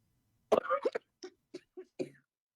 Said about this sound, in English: I hope everybody heard me coughing out of disgust